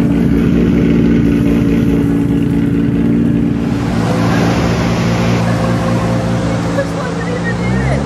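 A car sits idling inside a touchless car wash with its engine left running, a steady low drone close by under a broad wash of spraying water and some background talk.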